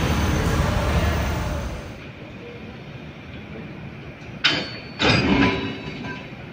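A passenger train idles at a platform in Uganda with a steady low rumble and hiss, then two sharp metallic bursts as carriages clunk together while coupling, fairly close.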